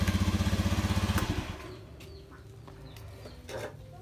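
A scooter-type motorcycle with an intermittent stalling fault starts up and runs with a loud, fast rhythmic pulsing for about a second and a half, then cuts out, leaving quiet background with faint bird chirps.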